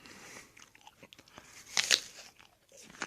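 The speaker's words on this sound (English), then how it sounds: "It's dense, crunchy, really apple-y." Someone bites and chews a crunchy home-grown Discovery apple, with sharp crisp crunches and a loud bite near the middle, all close up with no talk.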